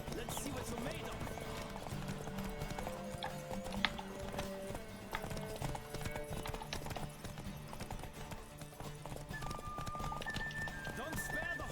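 Rapid hoofbeats pound in a steady galloping rhythm during a horse race in The Witcher 3: Wild Hunt video game, with a horse whinnying, all under continuous background sound.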